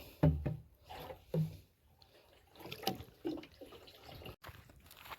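Water poured onto young plants in a Konkan village garden, heard as faint, intermittent splashes and trickles in a few short bursts with quieter gaps between.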